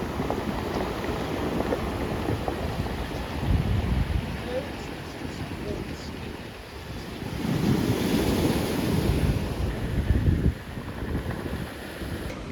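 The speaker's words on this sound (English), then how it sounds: "listen to the beach, hear the ocean waves, and relax just a little bit." Ocean waves wash onto a beach at Puerto Vallarta in steady surges, with a broad roar that swells and recedes, mixed with some wind noise.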